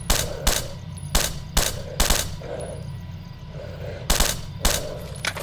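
Gunfire from the video game STALKER: Shadow of Chernobyl comes as sharp, loud single and double shots spaced irregularly over steady low background rumble, with no talking.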